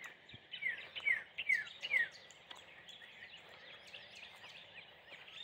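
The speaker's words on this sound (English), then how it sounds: "The birds are singing." Birds sing outdoors on a foggy morning: a few short, bright chirps come in quick succession early on, then fade into faint, steady open-air background with no one talking.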